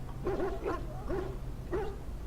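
A dog in the video game Dragon Age Origins whimpers and yips in four short, whiny bursts spaced evenly apart, close and fairly clear over a low steady background hum.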